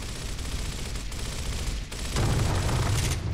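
Dense, continuous automatic gunfire in Gears of War, loud and close, with the rattle swelling louder partway through and no talking over it.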